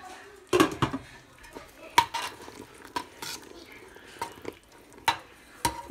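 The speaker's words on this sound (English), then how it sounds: "You're just gonna keep stirring it" Praline candy mixture stirred in a pot, with a spoon scraping and clinking against the metal in irregular sharp knocks and soft swishes, quiet and close.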